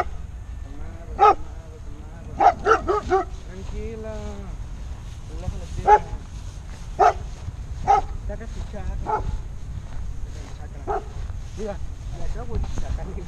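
A dog yips and barks in short, scattered bursts at close range over about thirteen seconds, with people talking casually around it.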